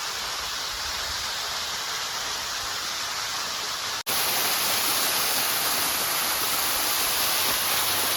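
Namma Falls waterfall in the Kolli Hills, water pouring down into a stream: a dense, steady hissing roar close by, briefly cut off partway and then returning louder and brighter.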